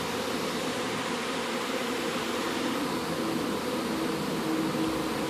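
Honeybees swarming at the entrance of a Hex Plex Pagoda Palace beehive in spring, a steady dense buzzing drone from many insects, continuous and close, with no voices.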